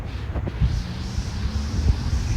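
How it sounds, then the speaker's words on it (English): Steady wind buffeting a microphone, a constant low rumble and roar with occasional gusty thumps, no voices. "I'm sorry if it's too noisy, but it's kind of windy."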